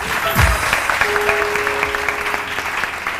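A television morning show studio audience applauds, a steady wash of clapping from many hands that carries on for a few seconds with no voices above it.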